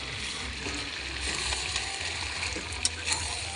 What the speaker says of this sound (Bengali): এবার আমি মাংসর মধ্যে জল দিয়ে দেবো।